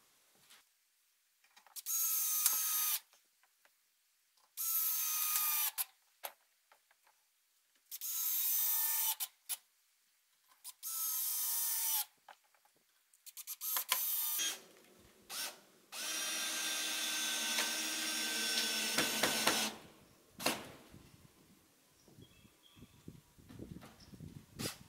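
Power drill driving screws through a full 2x4 wooden header on a rabbit hutch frame, in five or six separate close, loud bursts of whirring, with a longer final run and ratcheting clicks between.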